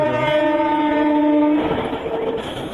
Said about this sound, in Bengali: নাকি নর্মাল ট্রেন? আইসিএফ কে জানি।